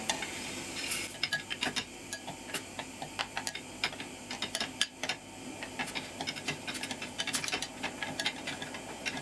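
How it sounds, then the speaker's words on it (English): A spoon stirs chocolate and Maltesers as they melt in a pan, giving a steady run of close, light clinks and scrapes against the pan for the whole stretch, with no talking. "we now need to get a spoon and start stirring this chocolate"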